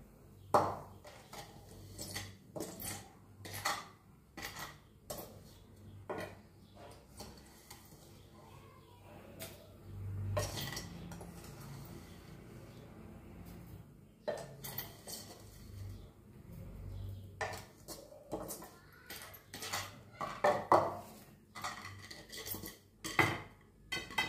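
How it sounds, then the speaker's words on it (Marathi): Cooked bhagar khandvi is moved onto a plate in a kitchen, with scattered close clinks of utensils, metal taps and plate knocks at an irregular pace over a quiet background. "आता मी एक प्लेटमध्ये काढून घेते"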